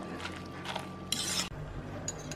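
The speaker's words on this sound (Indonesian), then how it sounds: "nah kita aduk-aduk lagi semuanya" Leftover cooked rice mixture stirred in a bowl with a utensil, giving soft scraping and light clinks in a short, close burst with a brief brighter scrape midway.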